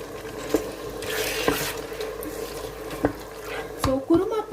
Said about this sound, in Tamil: கொஞ்சம் தண்ணி சேர்த்துக்கிறேன்.